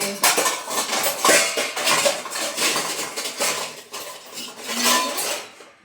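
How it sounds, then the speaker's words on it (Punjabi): Steel dishes, plates, pots and spoons clatter and clink continuously as kitchen utensils are stacked and set in place, close and fairly loud, with rapid overlapping metallic knocks and no talking. "ਇਸ ਤਰ੍ਹਾਂ ਬਰਤਨ ਲਾਈਏ ਹੈ"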